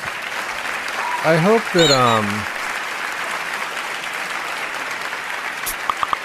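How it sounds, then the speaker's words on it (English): A live comedy podcast audience keeps up applause, a steady wash of clapping beneath a voice, which briefly speaks over it before the clapping carries on alone and fades slightly. "letting the applause finish"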